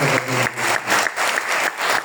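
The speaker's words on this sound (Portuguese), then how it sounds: "Dê uma salva de palmas ao nosso Deus." Church congregation applauding at a Sunday evening anniversary service, a loud, rhythmic burst of massed clapping that surges and dips in waves from the full room.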